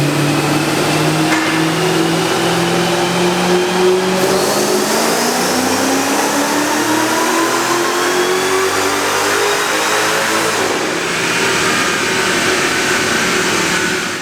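A Mercedes E55 AMG strains through a dyno pull, its engine note sweeping steadily upward in a loud, continuous roar, then briefly dropping and climbing again through a shift, with no voices.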